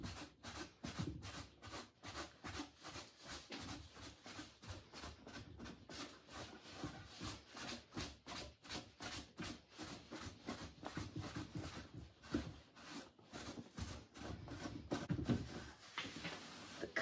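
A soft cloth rubs over a plaster wrap surface in fast, rhythmic polishing strokes, a steady close series of brushing swipes running throughout with no speech.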